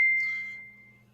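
A phone's message notification rings out as a single bright ding that trails off over about a second, heard close and alone against a low steady hum in a classroom.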